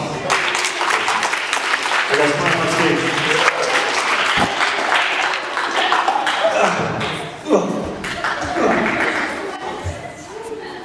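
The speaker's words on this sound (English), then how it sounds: "Give a round of applause." Students at an anti-bullying school assembly applaud as volunteers come on stage, with sustained lively clapping, laughter and chatter mixed with a presenter talking over it.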